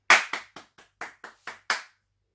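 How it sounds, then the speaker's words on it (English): A group claps hands together in a rhythm during a music lesson: eight sharp, close claps in an uneven patterned beat, then silence. "You can clap all the way through."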